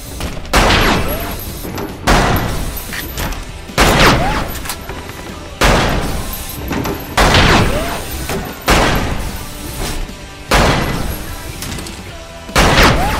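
Loud, close gunshots from the VR shooter game Lethal VR, firing in a steady rhythm of roughly one sharp blast every two seconds, each with a short ringing tail, with no talk over them.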